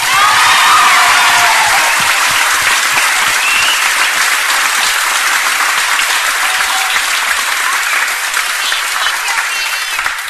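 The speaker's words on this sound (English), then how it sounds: "I'm sure everyone can give Mr Hibbard another clap" A school hall audience claps loudly and steadily for Mr Hibbard after a school show at Gorokan High in 1980, with a few cheers and whoops mixed into the dense applause.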